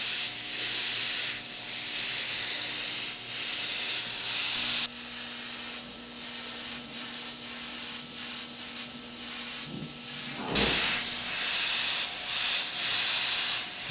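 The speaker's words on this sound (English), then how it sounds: "I'm going to point my airbrush away from the center of my design." An airbrush spraying paint onto a beveled edge gives a steady, close, bright hiss that runs for long stretches, with brief shifts in level as spraying stops and restarts.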